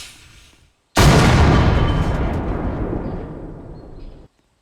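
A single loud boom as a musket-era cannon fires a blank in a video game, sharp onset after a quiet moment, then a long rumbling decay lasting about three seconds.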